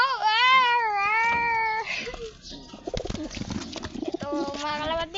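Blue bar pigeons cooing close by, with soft rolling coos and warbling calls layered over each other and continuing steadily throughout.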